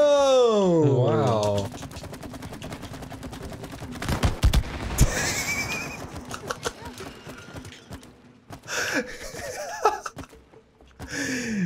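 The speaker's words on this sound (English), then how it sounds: "You're just shooting this wall." Rapid gunfire hitting a wall in the co-op game It Takes Two, a dense rattling burst in the middle of the stretch with scattered shots around it, mixed with players' voices, gasps and laughter.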